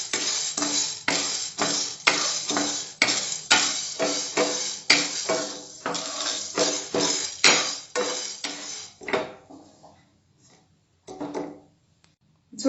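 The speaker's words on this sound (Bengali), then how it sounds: "এবারে ছোলার ডালটাকে দিয়ে দিলাম, এটাকে ভালো করে ভেজে নেব।" Dry chana dal roasting in a hot frying pan for nihari spice, with a steady run of close, rhythmic rattling scrapes and clinks as the lentils are stirred, thinning out into a few sparse taps near the end.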